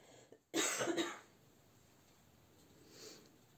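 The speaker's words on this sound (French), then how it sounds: "C'est toujours quand je vais filmer que j'ai envie de tousser." A single close cough burst, sharp and brief, followed by quiet with a faint breathy sound afterward.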